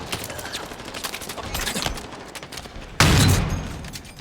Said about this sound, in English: Testing out some no scopes.